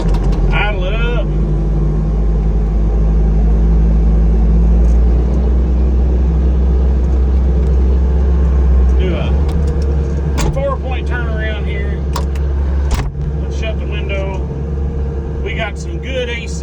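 The diesel engine of a Bobcat T870 compact track loader runs at a loud, steady deep rumble during driveway grading work, rising slightly and continuing with a few knocks and brief speech over it.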